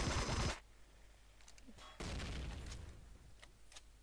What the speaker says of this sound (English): an explosion usually indicates that something has spawned